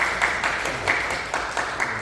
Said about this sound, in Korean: 먼저 따뜻하게 박수 좀 환영해